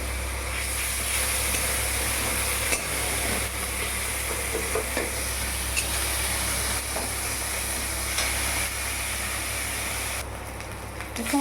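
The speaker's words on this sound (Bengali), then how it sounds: "পেঁয়াজ, রসুন, আদা আর কাঁচা লঙ্কাটা দিয়ে দেবো, একবারে ভেজে নেবো একসঙ্গে।" A paste of onion, garlic, ginger and green chili fries in a pan, a steady soft sizzle and hiss with occasional stirring scrapes and a clack toward the end, a voice faintly present.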